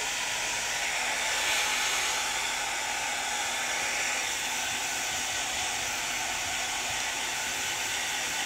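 Hair dryer blowing continuously at close range, a steady loud airy whoosh with no breaks and no talking.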